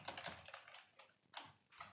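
Project name being typed on a computer keyboard, a quick run of close, crisp key clicks in short bursts with brief pauses between them.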